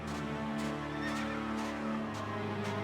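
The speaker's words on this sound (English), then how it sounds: "Stock horse noise." A stock horse neigh from an old video game, a loud, close whinny with a rising, shaking call over faint rhythmic hoof clops.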